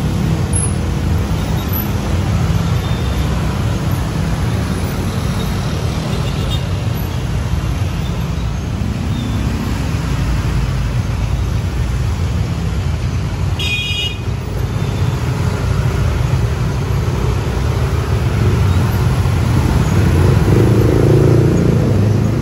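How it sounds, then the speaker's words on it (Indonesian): Weekday morning traffic jam on Condet Raya street in Jakarta, a dense continuous roar of cars, buses and motorcycles idling and creeping along, with a brief horn toot in the mix, heard from close by. "Seperti ini suasana jalanan Condet Raya setiap pagi di hari-hari kerja."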